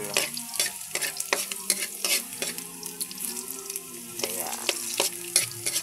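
Garlic sizzles steadily in a hot pan as it turns golden brown. Frequent sharp scraping strokes of a stirring utensil cut through the close, continuous frying hiss, and no one speaks.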